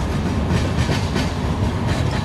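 Simulated Indian train in Trainz Simulator, a WAP7 electric locomotive hauling the Paschim Express on a Himachal route, rumbling steadily with continuous rail noise and wheel clatter throughout, loud and close, with no talking.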